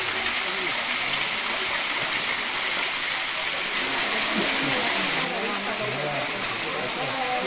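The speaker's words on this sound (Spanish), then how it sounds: "aquí tenemos la cascada vista por detrás" Loud, steady roar of a waterfall crashing nearby, heard from behind it inside a grotto at the Quinta da Regaleira, Sintra, continuous broadband rushing water filling the whole clip with no break.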